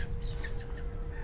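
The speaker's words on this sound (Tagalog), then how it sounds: "Napakaraming manok dito mga kamistiso." Chickens clucking at a farm, faint scattered clucks and chirps over a constant low hum and background rumble.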